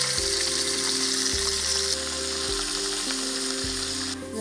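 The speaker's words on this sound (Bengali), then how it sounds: "এবার মাছটা ভেজে মাছের ঝালটা বসাবো।" Fish frying in a pan in a home kitchen gives a steady, loud sizzle, heard alone without talk and backed by a sustained low tonal hum that steps in pitch.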